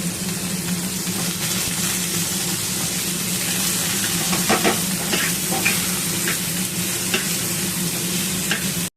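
Methi greens frying with potato and brinjal in a pan: a loud, steady sizzle close up, broken by occasional stirring scrapes, with no talking.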